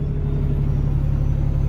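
A 2017 Peterbilt triaxle heavy haul daycab truck with 53k miles rumbles steadily with a deep, close diesel drone. The engine is already running, and no distinct start-up is heard.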